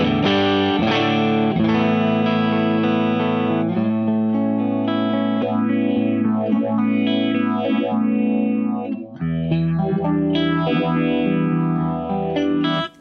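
A Yamaha Revstar RSS02T electric guitar in Sunset Burst plays distorted chords through an MXR Deep Phase phaser pedal, loud and sustained, with slow sweeping phase swirls rising and falling through the ringing strums.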